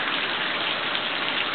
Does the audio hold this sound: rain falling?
yes